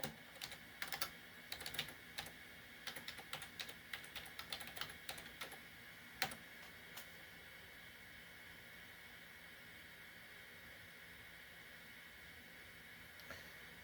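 Typing on the keyboard of an IBM PS/2 Model 77 computer: a quick, irregular burst of key clicks with one louder strike near the middle, then a few isolated taps against a steady background hiss.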